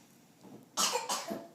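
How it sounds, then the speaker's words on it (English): Two close, harsh coughs in quick succession, preceded by a soft throaty sound, against a quiet background. "Cough, cough."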